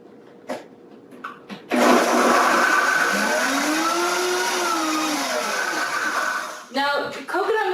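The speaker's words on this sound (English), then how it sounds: "I've gone ahead and put this all into my Vitamix, my high-speed blender here, and we're just going to go ahead and get this combined." A Vitamix high-speed blender mixes a coconut-milk sauce for shredded beef tacos, starting abruptly with a loud steady roar that rises and settles in pitch for about five seconds, framed by a few brief clicks and a voice near the end.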